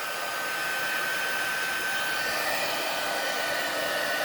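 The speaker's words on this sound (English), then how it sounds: "I'm going to turn on the heat emboss, and it's going to make a little bit of noise while it warms up" A heat embossing tool whirs steadily, a constant airy blowing hum with a faint high whine, close and continuous without pause.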